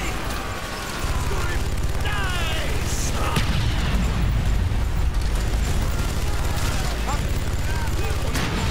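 Explosion during a prison escape in Call of Duty Black Ops, a loud boom followed by heavy rumbling, gunfire-like cracks and shouting voices in a noisy battle scene.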